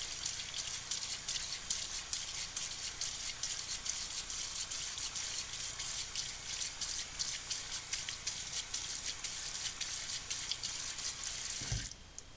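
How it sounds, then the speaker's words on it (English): Tap water runs steadily into a sink while art supplies are washed, a continuous close hiss and splash that cuts off abruptly near the end with a small final clunk. "Make sure to wash it all down so that it doesn't get caught along the drain"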